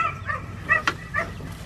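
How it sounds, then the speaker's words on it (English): Dogs bark and yip near a chicken coop in a short run of three or four sharp, fairly close barks with whimpering tones between them, against quiet background. "please ignore the dogs barking, they're freaking out because they can't get to me"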